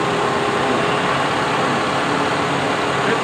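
A vehicle engine idles steadily during a battery charging test, a continuous close rumble with no break and no talk over it.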